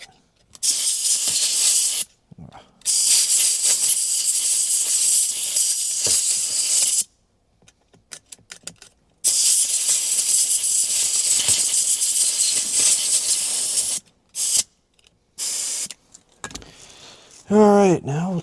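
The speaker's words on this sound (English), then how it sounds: "All right, now we'll take our contact cleaner. I'll run this up and down a few times." Contact cleaner sprayed from an aerosol can onto a Jeep JK seat belt buckle: long, loud, steady hissing bursts separated by short pauses, with rattling handling noise near the end.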